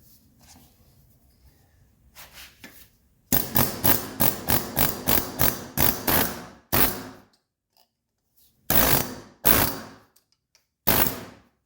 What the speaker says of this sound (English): But this will literally press out that bushing.